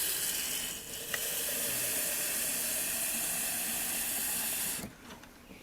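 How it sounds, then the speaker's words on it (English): Water pours steadily into a boat top being filled to check for leaks, a continuous hissing rush that runs for several seconds and then stops abruptly. "Let me put some water in this."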